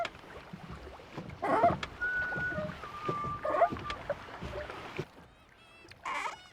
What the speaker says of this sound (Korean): 삐그덕삐그덕한 소리가 은근히 재밌어요, 이게.